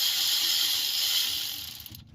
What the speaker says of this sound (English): use your ratchet to put it back in